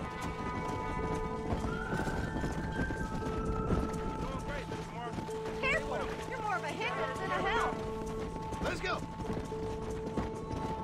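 Galloping horse hooves drum steadily while herding cattle in Red Dead Redemption, with whinnies and animal calls rising in the middle, the clip-clop continuous and close, and voices speaking over it.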